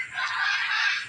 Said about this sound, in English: the scarlet macaw.